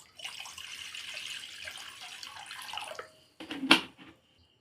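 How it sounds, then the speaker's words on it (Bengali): Water is poured steadily into a cooking pot for steamed rice-cake preparation, a close hissing stream lasting about three seconds, followed by a brief louder splash and gurgle. "এর মধ্যে জল দিয়ে দেবো।"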